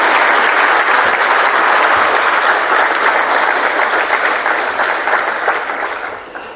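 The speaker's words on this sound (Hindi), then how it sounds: "आप लोग एक बारी जोरदार तालियां बजाएं" Dense, sustained applause from an audience at the 'Wings of Valor' book launch honouring the Indian Air Force, loud and steady throughout before tapering off slightly at the end, with no talk over it.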